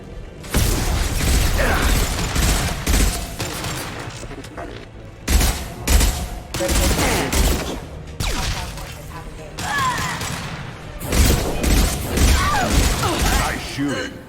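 Combat gunfire rattles in the video game Mass Effect 2 in repeated bursts and volleys with mechanical clatter and booms, close and loud, with brief lulls and game voices talking between shots.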